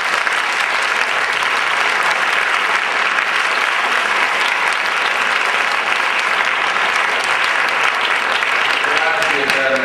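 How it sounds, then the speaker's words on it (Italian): Sustained audience applause at an Italian relationships festival, dense and steady clapping from a large crowd filling the whole stretch at even loudness. "al professore Vito Mancuso, che vi invito ad accogliere con un applauso."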